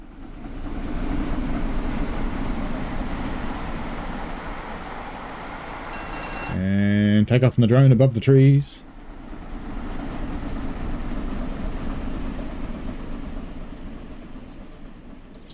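A train passes on the West Coast Main Line between Preston and Carlisle in the Just Trains rail game: a steady rolling rumble, broken midway by a loud, brief burst of tonal horn-like sound, then the rumble resumes. A voice speaks briefly.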